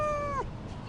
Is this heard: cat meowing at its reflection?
yes